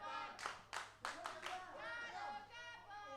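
Crowd at a live wrestling show claps in a short, evenly spaced run of about five hand claps, then an announcer's voice carries on alone.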